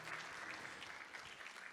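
An audience at a 20th anniversary corporate awards ceremony claps steadily and fairly densely for an award recipient, a continuous wash of applause, heard faint and distant.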